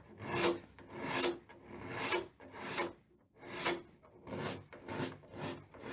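Stain on a shower room surface being scraped with a blade: seven rhythmic rasping strokes, each swelling and fading about once a second, close and clear with no speech.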